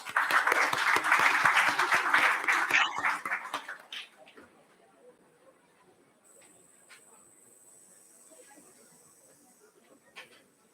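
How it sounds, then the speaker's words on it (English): An audience gives a loud round of applause at a conference on India's economic growth, dense clapping for about four seconds that then fades to quiet room tone. "With a round of applause,"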